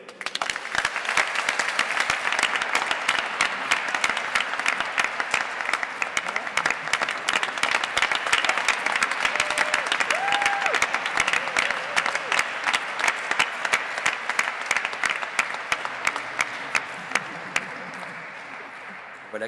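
Sustained applause from an audience at a scout unit ceremony welcoming a new unit leader, a steady dense clapping that runs loud and even for about twenty seconds before easing slightly at the end.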